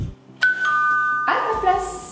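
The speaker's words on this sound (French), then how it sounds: "apprendre à son chien à aller à sa place quand il entend le bruit de la sonnette" A two-tone doorbell chime rings out clearly, ding then dong, with a short ringing decay, close and fairly loud.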